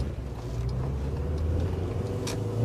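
A Honda Civic Si EM1 engine revs hard in first gear from inside the car, a steady loud drone with a rising tone over a little road noise, and no talk over it.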